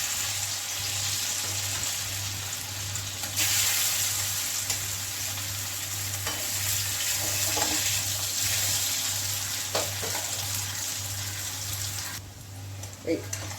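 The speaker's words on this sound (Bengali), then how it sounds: "তেলটা আমার এখন গরম হয়েছে। এই যে ধোকাগুলোকে আমি এইভাবে কেটে নিয়েছি। এখন এইগুলোকে আমি ভেজে নিচ্ছি।" Pieces of cauliflower dhoka fry in hot oil with a continuous, close crackling hiss, set over a steady low electrical hum and dotted with occasional soft clicks.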